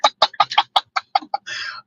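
A person imitates the Cardi B bird sound with a rapid series of about nine sharp, clucking vocal bursts, close and loud, ending in a held squawk.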